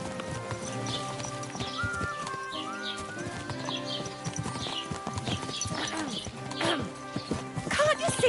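Horse hooves clip-clopping at a steady walking rhythm in the medieval game Kingdom Come: Deliverance 2, with a whinny and ambient birdsong, under intermittent spoken voices.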